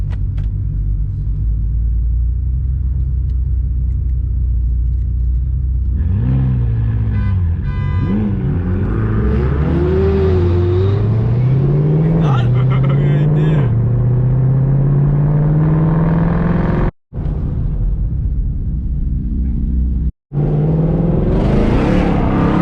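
Race cars, a McLaren and a Ferrari, rev loudly and close by in an improvised race, the engine notes rising and falling through repeated accelerations under a constant heavy rumble, with two brief sharp cutouts near the end.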